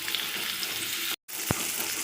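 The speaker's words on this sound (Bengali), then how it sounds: "ওই তেলে এবার পটলটা ভেজে নেব।" Pointed gourd (potol) fries in oil in a home kitchen pan with a steady, soft hiss. The sizzle breaks off for a moment, and a small clack follows when it resumes.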